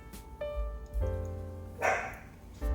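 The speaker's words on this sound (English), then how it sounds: "I'm sorry about my dogs, y'all." Several loud dog barks ring out in an irregular series close by, with short gaps between them and no talking.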